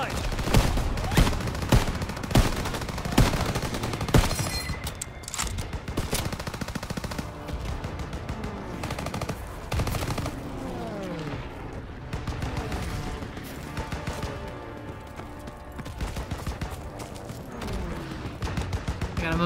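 Sustained anti-aircraft flak and gunfire in a Call of Duty battle, opening with a run of heavy rhythmic blasts, then dense continuous shooting with whistling, swooping projectile sounds over a loud, steady din.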